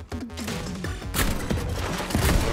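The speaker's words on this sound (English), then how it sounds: "Some robots that are shooting some rockets." Atomic Heart robots fire rockets in a dense barrage, a loud continuous rumble of blasts and booms with heavy impacts building over a couple of seconds and no talk.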